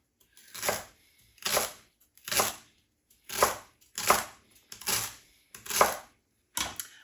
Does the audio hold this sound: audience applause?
no